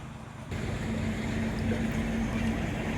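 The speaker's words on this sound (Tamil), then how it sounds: "அந்த தண்ணி வரக்கூடிய சவுண்டு எவ்வளோ அழகாக கேட்குன்னு பாருங்கள்." Fast-running stream water pouring along a long channel, a steady broadband rush that swells louder after the first half second and continues alone without speech.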